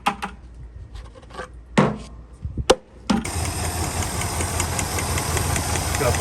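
A few sharp knocks and clatters, then a Buick 350 V8 engine with a head gasket problem kicks in and idles with a rough, steady roar that continues to the end.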